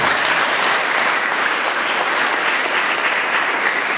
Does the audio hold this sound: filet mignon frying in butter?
no